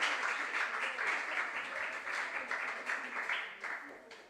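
Fairly faint clapping from the audience at a junior science and maths quiz final, a pulsing patter of many hands that swells and eases before tapering off.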